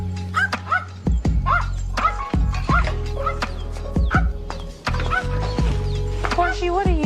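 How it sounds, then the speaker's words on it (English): A dog barks in sharp repeated bursts close by, mixed with chicken clucking and rooster-like calls, while people talk over the noise. "what are you barking at"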